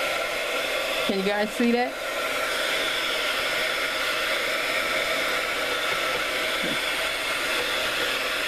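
A heat gun drying a mixed media art tag blows a steady, loud, airy whoosh throughout, with a short spoken question near the start.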